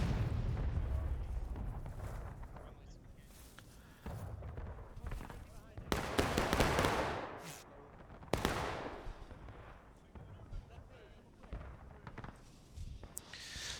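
Artillery fire in the video game War of Rights during a large 300-player battle on a hilltop map: scattered distant booms and heavier blasts around the middle, mixed with musket crackle and a voice speaking over the din.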